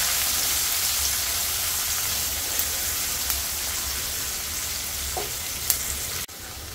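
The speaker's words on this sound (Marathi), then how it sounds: "आता इथे मी कांदा पण घालून घेते. कांदा छान परतून घेऊया." Onion frying in a pan with a steady, even sizzle that holds throughout, close and fairly loud, with a few faint clicks near the end and a brief dip right before it stops.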